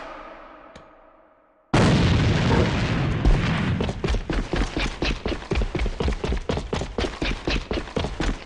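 A grenade explodes in the first-person shooter AVA on the Factory map. After a quiet start comes a sudden loud blast near the two-second mark, followed by a steady string of rapid gunshot-like pops.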